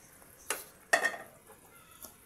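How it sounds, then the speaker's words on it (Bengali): Fish curry of rohu with okra being stirred in a pot, giving a few soft scraping strokes and a faint simmering sizzle, quiet and close with no talk. "আবার এখন আমি নাড়াচাড়া করে দিতেছি।"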